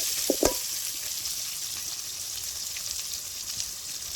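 Chopped onions sizzling steadily in a pan for dried fish curry, cooked in a mud hut kitchen. A couple of soft knocks come near the start, then the frying continues as an even, close hiss with no talking.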